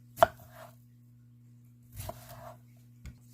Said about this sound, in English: Just chopping it the same way I did all of the other greens.